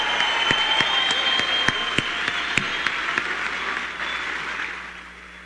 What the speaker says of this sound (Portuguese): Uma salva de palmas para Arthur Duval.